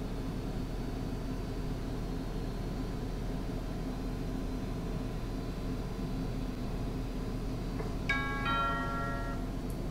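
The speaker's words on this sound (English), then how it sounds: "Listen to the chime. As soon as it chimes, lets you know, on to the next." An EinScan Pro Plus 3D scanner sounds a short, bright electronic calibration chime near the end, rising faintly above a steady, loud background hiss.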